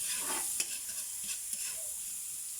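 Ginger, onion, tomato, garlic and chili sizzle in a pan while a spoon stirs them. The soft frying hiss is broken by a few sharp scrapes of the utensil, and no one speaks.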